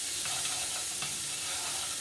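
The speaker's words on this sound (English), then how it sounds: "So we're going to cook those, stirring frequently until they're soft." Bell peppers and onions sizzle steadily in a hot pan, a close and continuous frying hiss broken by soft scrapes as they are stirred. No one speaks.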